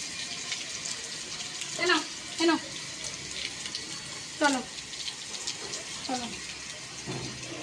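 Water runs steadily from a shower tap in a bathroom as a continuous close hiss, while a child's and an adult's voices talk intermittently over it.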